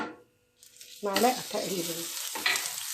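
A piece of butter dropped into hot caramel in a pot, bursting into a loud hissing sizzle that flares up at once and then settles into steady bubbling, with someone talking over it.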